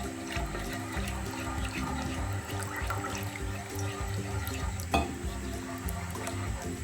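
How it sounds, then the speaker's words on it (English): Water is poured into a simmering curry gravy for gatte ki sabzi, a steady wet splashing and bubbling that runs continuously through the whole stretch with a faint clink partway, no voices present. "मैंने almost 400 milliliters पानी डाला है इसके अंदर"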